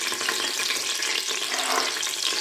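Oil with about half a ladle of ghee melting and sizzling in a pan for spicy Algerian chakhchoukha, a steady dense frying hiss running close and unbroken throughout, with no voices over it.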